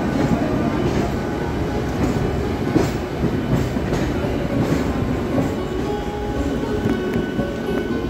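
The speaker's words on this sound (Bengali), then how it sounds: "এই যে পাশে যাচ্ছে সরাইঘাট এক্সপ্রেস।" The Saraighat Express rolls past alongside a Kolkata local train, heard from on board as a loud, continuous rumbling roar with rhythmic clattering of wheels over rail joints, steady for the whole stretch.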